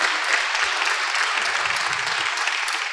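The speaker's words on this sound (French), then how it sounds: "Je vous invite à l'applaudir." Conference audience applauding after a talk on education in Africa, a continuous, even wash of many hands clapping, with faint low murmurs near the end.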